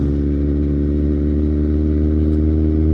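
A Kawasaki Z1000 motorcycle engine idles and revs up close and loud, with a steady, rich exhaust drone that builds slightly over the few seconds, alone with no talking.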